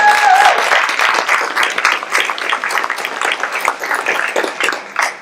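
A crowd claps at a college event on women's leadership, loud and continuous at first, then gradually thinning and tapering off over about five seconds.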